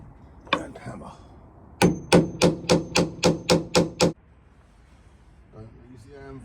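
Hammer striking a punch while fitting a side panel to a narrowboat pram hood, eight sharp, evenly spaced metallic taps close up, with brief speech just before and after.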